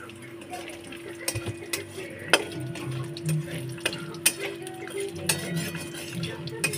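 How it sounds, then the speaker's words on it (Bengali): Cashews and raisins fry in a pan for Bengali-style fried rice, with a steady low sizzle under repeated sharp clinks of a spoon stirring against the metal pan, close and alone. "এবারে কাজু কিশমিশটা ভেজে নেবো।"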